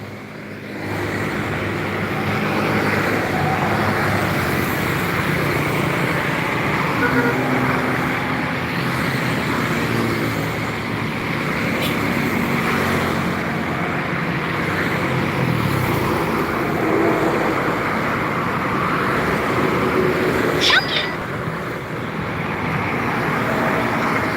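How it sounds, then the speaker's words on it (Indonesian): Buses and trucks passing on a road around Palembang, a continuous broad roar of traffic with engines rising and fading, steady and fairly loud with no voices. "Bermacam-macam bus yang datang atau truk yang melintas sekitar Palembang"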